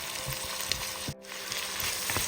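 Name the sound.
vegetables sautéing in a pan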